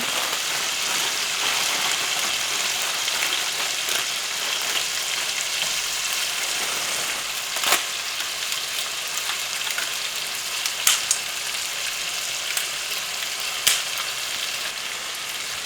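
Onions sizzle and fry steadily in a stir-fry pan, a continuous close crackle with a few sharper pops and clatters, no talking.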